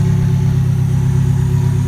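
A Mazda Miata engine running a Megasquirt setup idles loud and close with a smooth, steady low rumble and even pulsing, no voices over it.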